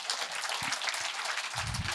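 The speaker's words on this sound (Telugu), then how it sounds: "గట్టిగా క్లాప్స్ కొట్టండి." An audience at a talk on the universe and quantum physics claps loudly, a dense, even patter of many hands lasting a couple of seconds with a faint voice underneath.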